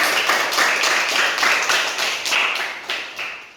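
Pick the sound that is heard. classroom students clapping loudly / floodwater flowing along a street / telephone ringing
classroom students clapping loudly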